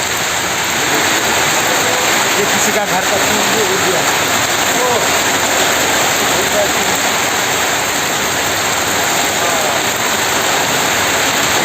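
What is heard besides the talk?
heavy rain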